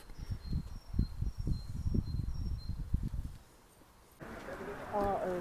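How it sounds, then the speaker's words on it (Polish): Birds sing outdoors beside a monastery in Płock. Thin, high, repeated chirps run over soft low thumps and shuffling, then a brighter, louder burst of warbling song rises near the end. "Posłuchajmy śpiewu ptaków."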